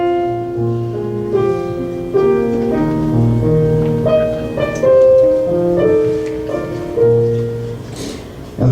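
A piano plays a flowing melody from a concert piece in a gallery concert setting, sustained notes and chords overlapping at a moderate pace, loud and close with no talking.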